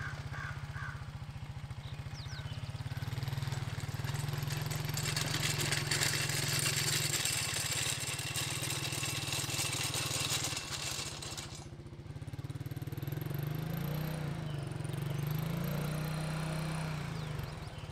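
An ATV engine runs steadily and loudly while pulling a Black Boar implement across ground packed hard as cement, its drone holding throughout with a brief dip near the middle before it picks back up.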